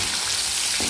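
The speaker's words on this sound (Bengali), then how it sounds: "পেঁয়াজটাকে এভাবে নাড়াচাড়া করে নিতে হবে।" Chopped onion with green chilli and salt stirred in hot oil in a pan, a steady close sizzle with a faint scrape of the spoon near the end.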